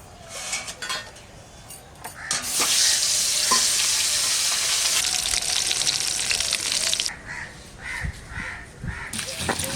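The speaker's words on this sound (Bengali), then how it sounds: "এক খোলা ভাজা হয়ে গেছে, আর এক খোলা ভাজলে হয়ে যায় আমার মাছ ভাজা।" Katla fish pieces fry crisp in hot oil with a loud, dense sizzle that swells for several seconds, surrounded by softer stirring and pan noises and crows cawing outdoors.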